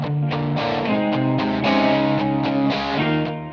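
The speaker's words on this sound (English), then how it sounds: "we've layered another distorted guitar playing exactly the same part." Thick, layered distorted electric guitars play sustained power chords together, loud and dense, with no voices.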